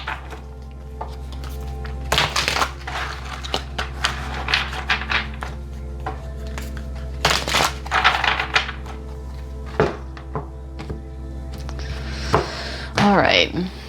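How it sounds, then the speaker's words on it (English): A deck of tarot cards is shuffled during a reading, with several brief, crisp riffling bursts and soft thumps of the cards spaced out over a quiet background. "give me 3 more shuffles and then we'll cut the deck."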